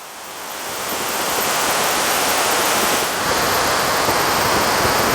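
Rain-swollen Parakuzhi waterfall pours heavily, its thick roar of churning water swelling over the first second and then holding loud and steady, with no one talking.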